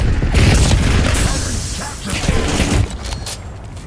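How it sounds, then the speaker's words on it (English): A grenade explosion and gunfire in a shooter video game, a loud, dense blast with rumbling and crackling bursts throughout, close and heavy, with a brief quieter tail near the end. "Grenade incoming."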